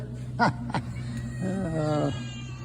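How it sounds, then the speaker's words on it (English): Farm cats in an equipment shed meow and caterwaul: two short cries followed by a longer drawn-out wavering meow, close and clear over a low steady hum. "These are supposed to be the cats that eat all the mice in the shed."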